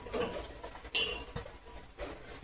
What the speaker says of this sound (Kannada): ಹೆಚ್ಚಿಟ್ಕೊಂಡಂತಹ ಹೋಳುಗಳನ್ನೆಲ್ಲ ಒಂದು ಪಾತ್ರೆಗೆ ಹಾಕೊಳ್ತಾ ಇದ್ದೀನಿ